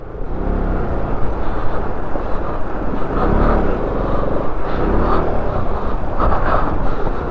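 A motorbike rumbles steadily along a rough, rocky mountain road beside a river on the Chandrataal to Manali route, its engine drone loud and continuous under buffeting wind noise.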